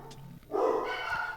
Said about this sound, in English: Apologize, those are my dogs.